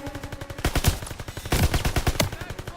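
Rapid bursts of automatic gunfire in Call of Duty crack loudly in quick succession, two sustained volleys with a short gap between, sharp and close.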